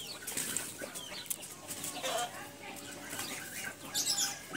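Chickens and a black Aseel rooster cluck and squawk in a busy, noisy fight with fluttering wings, steady scratchy commotion throughout at moderate distance.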